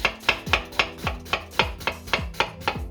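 An onion chopped with a knife on a cutting board for a Transylvanian cabbage and pork dish: about eleven crisp, evenly spaced chops in a steady rhythm, close and clear, with no talk.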